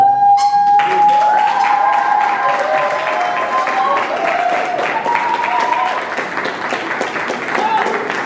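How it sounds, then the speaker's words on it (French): A festival audience in Kinshasa claps steadily and loudly throughout, a dense, sustained round of applause after a brief tone at the start. "Les applaudissements, ça nourrit les artistes."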